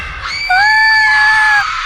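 A woman's loud, sustained high-pitched scream in a horror story, rising sharply and holding for about a second over a faint rumbling background.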